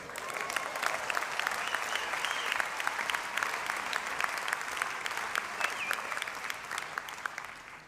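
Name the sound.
crowd applause at union rally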